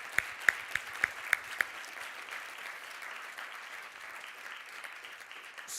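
Forum audience applauding at a community event: a few sharp, separate claps at the start give way to soft, thin, distant clapping that carries on quietly to the end.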